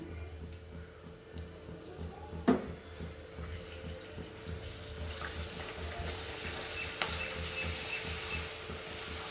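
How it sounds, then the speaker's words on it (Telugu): Papad drops into well-heated oil and fries with a soft, steady sizzle and crackle. It is faint and close, with one sharper knock early on. "ఆయిల్ బాగా హీట్ అయ్యింది ఇప్పుడు పాపడ్ వేస్తున్నాను"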